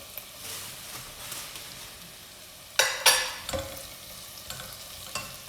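Vegetables for a carrot vegetable soup sauté in butter in a pot, a low steady sizzle broken by a few loud scraping stirs around the middle and some lighter clinks after, no voices.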